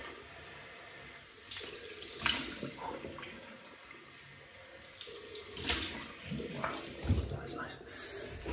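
Water runs from a tap into a sink with a steady splashing hiss, shifting as it hits things, while someone speaks quietly over it.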